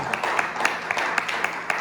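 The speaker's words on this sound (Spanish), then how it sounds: "Denle un aplauso a Cristo" Church congregation applauding during a Spanish-language sermon, a steady wash of many hands clapping with a few sharper claps standing out, moderately loud and continuous throughout.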